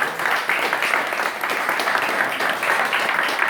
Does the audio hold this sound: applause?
yes